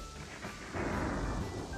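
Storm surge of seawater flooding a coastline, a low rumbling roar with a heavier surge of rushing water partway through, continuous and fairly loud with no voices.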